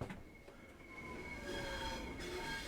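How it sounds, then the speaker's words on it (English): Train in Train Sim World 4 rumbling past on the South Eastern High Speed line, a low continuous roll with faint wheel squeal tones, moderately distant and quiet. "I hear a train."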